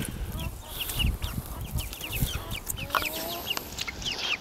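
Hens that lay chocolate brown eggs cluck in a row of short, repeated calls, moderately close and over an outdoor background with a faint voice or two mixed in.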